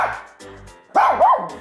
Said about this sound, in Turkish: Evet, havladı gerçekten.